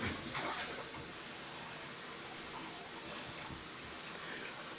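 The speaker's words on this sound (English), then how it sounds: "you notice that the water is going down a little faster" Water drains steadily down a bathroom sink after unclogging, a continuous faint hiss and trickle with no break and no talk.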